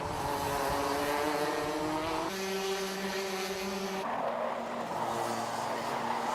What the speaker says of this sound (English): We saw it earlier with Ian Branfield, was hard on the brakes, sending that kart sideways to get it stopped up at the hairpin.